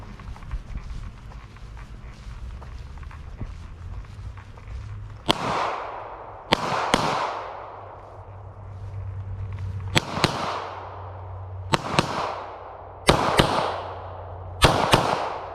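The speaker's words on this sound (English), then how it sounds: "You said we can shoot any one of them, right? With the handguns." Handgun shots crack at an outdoor shooting range: six sharp reports come at uneven intervals, each one followed by a long fading echo, over a low steady background hum.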